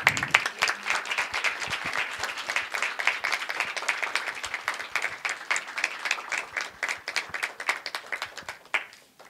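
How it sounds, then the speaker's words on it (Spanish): A crowd applauding steadily for several seconds, dense clapping that gradually thins out toward the end. "Un fuerte aplauso para Natalia."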